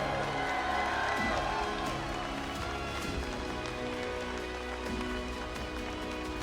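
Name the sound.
crowd applause and cheering at esports final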